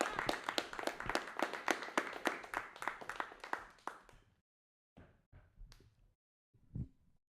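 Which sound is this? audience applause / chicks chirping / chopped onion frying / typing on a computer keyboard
audience applause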